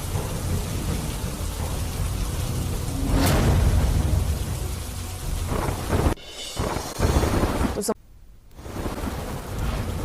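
Heavy rain pours steadily in Dwarka, loud and close, with a rolling rumble of thunder swelling near the start and a few brief drops in the roar later on.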